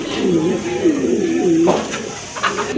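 Fancy pigeons coo in a low, repeated rolling rhythm, several throaty calls in quick succession close by, followed by a few faint rustles and knocks.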